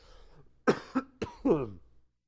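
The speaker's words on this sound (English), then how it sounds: "Sorry, I couldn't get to my cough button fast enough." A few sharp, close coughs in quick succession, rough and throaty, ending with a longer hacking cough before silence.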